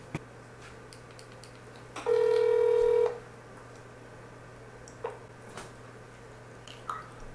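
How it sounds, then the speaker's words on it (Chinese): Telephone dialing on a handset: one bright, loud electronic keypad tone holds for about a second, then faint scattered clicks and taps follow in an otherwise quiet room. "我们来打看这个电话好了。"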